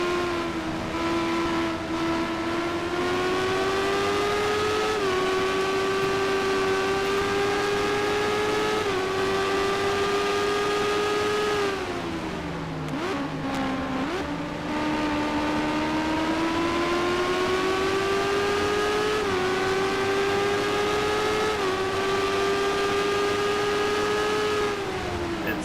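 Indy cars racing at Barber in a sim racing game: a loud, continuous high-revving engine whine rises and falls through gear changes, with a brief dip mid-way as the car backs off for a turn before pulling hard again.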